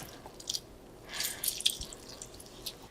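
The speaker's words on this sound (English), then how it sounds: "A touch of lemon juice." Lemon juice squeezed into a mayonnaise-based sauce for fish and chips gives a few faint, close drips and soft wet squishes in a quiet kitchen.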